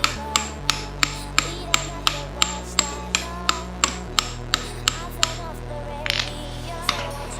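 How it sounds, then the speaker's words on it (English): Steady, evenly spaced metal hammer strikes, about two per second, ringing sharply over a constant low hum, as a wheel axle is hammered out of an electric bike. "Hammer this out."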